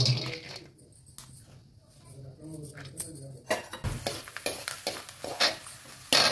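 Peanuts tipped into a hot pan for a jonna atukula (sorghum flakes) chudwa, with nearby clinks and scraping of a utensil against the metal pan and light sizzling, growing busier in the second half under faint background voices.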